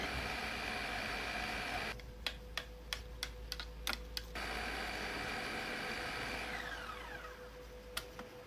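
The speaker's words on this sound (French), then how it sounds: "Donc je vais commencer par mixer ces trois premiers ingrédients." A kitchen blender whirring at a steady pitch while it mixes onion, garlic and ginger, briefly interrupted by a series of sharp clicking ticks before the motor's drone returns.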